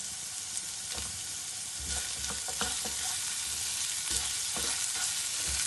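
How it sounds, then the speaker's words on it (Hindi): Cumin seeds and ground spices fry in oil in a pan, a steady close-up sizzle with occasional stirring scrapes and small pops, continuous throughout with no talk. "इनको अब अच्छी तरह भून लेंगे मसालों को"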